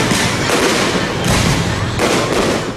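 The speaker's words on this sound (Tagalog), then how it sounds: "Isang bonggang fireworks display ang kanilang isinalubong sa bagong taon." New Year fireworks display in Tagbilaran City, Bohol, a loud, dense barrage of crackling bursts and booms filling the air continuously with no pauses.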